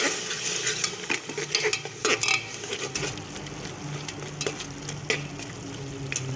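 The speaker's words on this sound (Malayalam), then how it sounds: "ഇനി അല്പാൽപമായിട്ട് വെള്ളവും കൂടെ ഒഴിച്ച് നമുക്കിതൊന്ന് ഇളക്കി കൊടുക്കണം" Masala paste for an eggplant curry is stirred with a little water in a pan, giving a close, continuous sizzle with repeated scraping and clinking strokes of the spoon.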